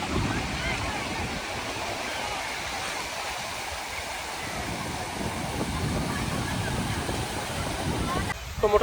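Sea waves and wind at Bakkhali beach roar continuously, a broad, steady wash of surf with wind buffeting the microphone, loud and close throughout, with a brief sharper disturbance near the end.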